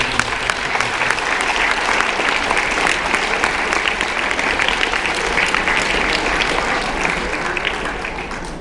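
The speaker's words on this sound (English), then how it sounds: "give a round of applause first and foremost for yourselves, for all the hard work that you've done." Delegates at a Model UN closing ceremony applaud together, a loud, dense wash of clapping that holds steady for the whole stretch and eases slightly at the end.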